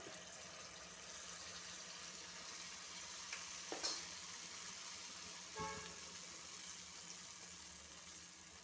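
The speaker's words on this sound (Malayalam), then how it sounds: "ഇപ്പോൾ നമ്മൾ നേരത്തെ ഒതുക്കി വെച്ചിരുന്ന മാവ് 1 മണിക്കൂർ ശേഷം റെസ്റ്റ് ചെയ്തതിന് ശേഷം കോരി ഒഴിക്കുകയാണ്" Rested wheat flour batter ladled into a hot pan, giving a faint, steady sizzle throughout with a couple of soft utensil clinks, no voices.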